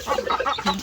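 A chick cheeps and peeps close by in a quick, brief run of soft calls, with no voices.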